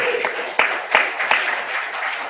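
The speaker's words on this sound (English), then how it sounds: "Let's give her a round of applause." Brief applause at a Rotary club meeting, a small group clapping nearby with a few sharp, distinct claps standing out over a couple of seconds.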